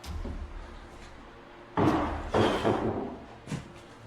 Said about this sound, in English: there's a loud sound of something wooden slamming or falling down